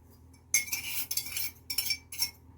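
A utensil whisks eggs, sugar and vanilla together in a bowl, producing bright metallic clinks in four short rhythmic bursts separated by brief pauses.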